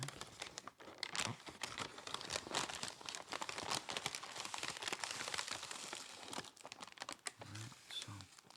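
Close, crisp crinkling and rustling as the plastic packaging comes off a Boar's Head maple turkey sub sandwich, with irregular crackles and tearing, recorded in close-miked ASMR style.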